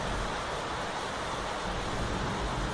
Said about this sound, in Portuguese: É uma tempestade com raios em Itaquaquecetuba.